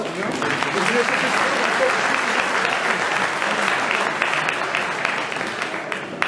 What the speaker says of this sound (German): Hendrik, dein Applaus!